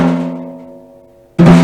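A snare drum tail fades out, then a single sharp flam hits, with sticks landing in close succession for a bright, loud crack with snare rattle.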